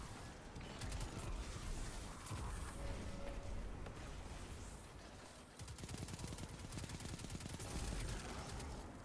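Rapid video-game gunfire rattles in dense, sustained bursts during an online shooter match, with a short lull before the shooting resumes.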